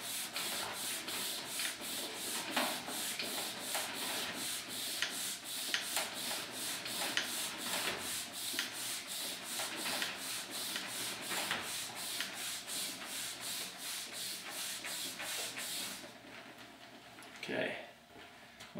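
A cork block rubbing Cera F fluoro wax into a ski base: rapid, regular back-and-forth friction strokes, close and sustained, easing off briefly near the end before resuming.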